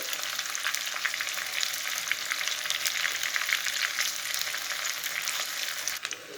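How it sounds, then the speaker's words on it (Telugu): Chopped onions sizzle steadily in a hot pan for a tempering for menthi kura pappu (fenugreek-leaf dal), a dense, even crackle that runs unbroken and close with no voices. "ఆనియన్ కొంచెం వేగాలండి."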